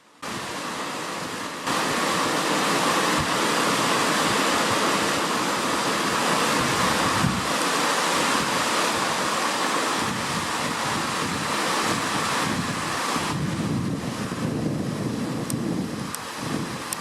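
Sia Creek in Glacier National Park rushes loudly and continuously, a dense broadband roar of flowing water close by with some wind buffeting the microphone.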